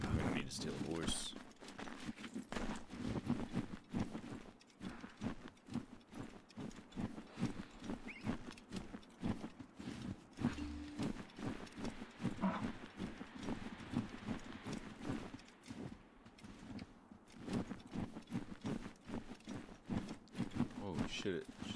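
Horse hooves clip-clop steadily through the whole stretch in Assassin's Creed III Remastered, a quick galloping rhythm mixed with faint game ambience and rattling tack.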